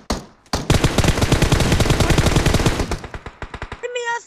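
Automatic gunfire in the mobile battle royale game PUBG Mobile: a loud, sustained burst of rapid rounds that runs for about two and a half seconds, then breaks into scattered shots and a short electronic game tone, with no speech.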